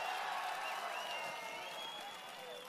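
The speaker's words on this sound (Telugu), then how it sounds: "మమ్మల్ని ఆశీర్వదిస్తామని గట్టిగా చప్పట్లు కూడా చెప్పండి మీరంతా" A crowd at an outdoor Prajagalam political rally in Prathipadu claps and cheers with sustained, fairly distant applause, and thin whistles ride above the clapping.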